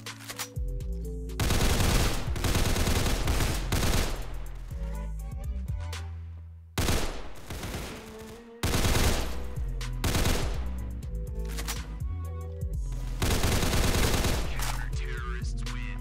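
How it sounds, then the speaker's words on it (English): Rapid bursts of gunfire in the Counter Blox first-person shooter game, loud and dense, running in long volleys broken by a few short pauses. "Was shooting while jumping."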